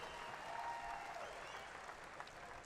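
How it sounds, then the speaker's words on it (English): A crowd at a celebrity softball game claps in steady applause, a dense even patter of many hands heard from some distance, with no voices rising above it. "Give him a big round of applause."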